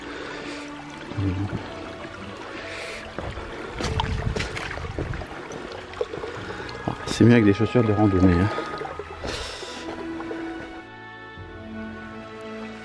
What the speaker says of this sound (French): on repasse sur un petit ruisseau, sur le même petit ruisseau